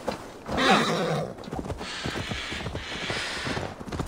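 In the video game Assassin's Creed Valhalla, a horse whinnies loudly near the start, followed by steady hoofbeats and rustling movement continuing beneath it.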